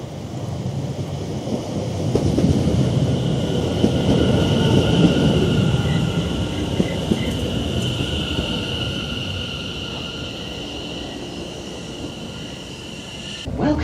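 A train pulls in at South Woodham Ferrers station in stormy weather, a loud rumble that builds and then eases over several seconds, with high whine and rushing wind and rain around it.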